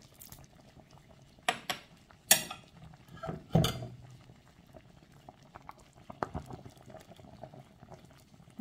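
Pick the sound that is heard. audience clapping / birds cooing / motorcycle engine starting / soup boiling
soup boiling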